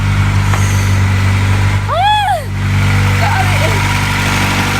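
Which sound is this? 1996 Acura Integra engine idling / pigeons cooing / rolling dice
1996 Acura Integra engine idling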